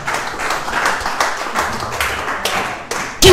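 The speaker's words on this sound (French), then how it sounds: "Nadine acclame" A church congregation bursts into clapping and acclamation during a sermon, a loud, irregular burst of many hands with sharp peaks, close and lively, with no talking over it.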